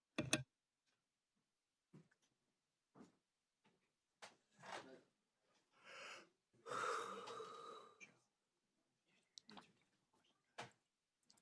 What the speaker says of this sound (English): Who is yawning in the mic?